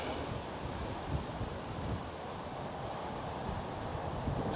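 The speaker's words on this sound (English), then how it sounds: "Wind's picking up." Steady outdoor wind rushes broadband and unbroken ahead of an approaching storm, with faint gusts and rustling throughout and no voices.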